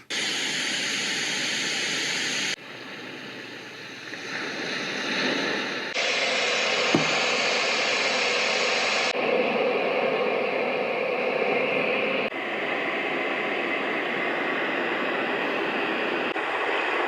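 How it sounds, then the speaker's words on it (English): Steady white-noise hiss from four baby sound machines, including a Frida Baby unit, played one after another. Each segment is a continuous, even rush of noise, with the tone and level shifting abruptly at every switch between machines. "I'm gonna play white noise on all of them"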